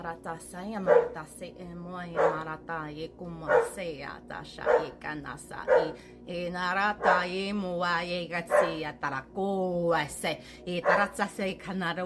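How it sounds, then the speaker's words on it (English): A dog barks and yips in short bursts at intervals, mid-distance, under continuous rhythmic chanting-style speech that runs throughout. "Sorry for my dog barking"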